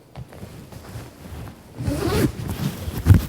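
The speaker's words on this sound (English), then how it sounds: "Zip this up." A zipper on a North Face Orcadas parka is pulled up in one continuous, close and loud rasping run that grows stronger toward the end.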